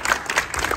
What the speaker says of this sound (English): applaud them for this.